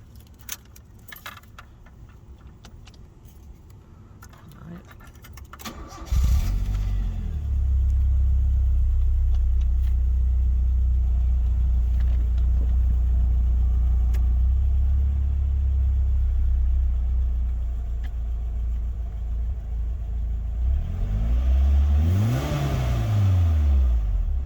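A 1987 Toyota AE86 Sprinter Trueno fires up after a few seconds of key jangling, then settles into a steady, close, loud idle with a low rumble, ending with a brief rev near the end.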